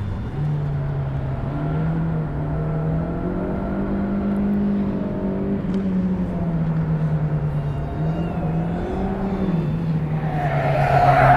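A Honda Civic Turbo or Suzuki Swift GTi pulls hard, its engine note climbing steadily, dipping at a gear change and rising again, loud and close, with a brief wheelspin rush near the end.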